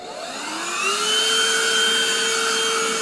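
A Portutif cordless handheld vacuum cleaner with a brush attachment on carpet, whining steadily up close and rising in pitch as it spins up, then holding a loud, even motor tone.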